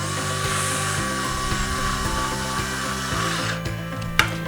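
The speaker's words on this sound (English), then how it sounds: "Take the power screwdriver." A power screwdriver drives screws into a wooden birdhouse. Its motor whirs loud and close with shifting pitch as each screw seats, then stops, followed by a brief click.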